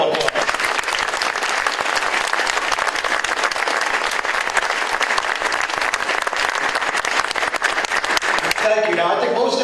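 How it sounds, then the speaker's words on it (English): Audience at a Bayonne mayoral debate applauds the three candidates, dense steady clapping for about nine seconds before it cuts off and a voice starts speaking. "So let's give them all a round of applause."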